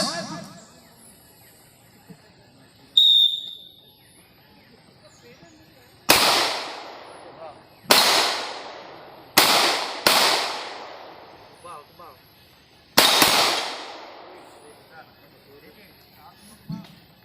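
Five sharp, loud pistol shots at a shooting range in an irregular series, each cracking and echoing briefly, with quiet background and a faint click beforehand.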